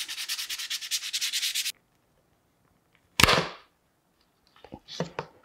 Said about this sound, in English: I'm doing a little bit of sanding now before I take the pieces apart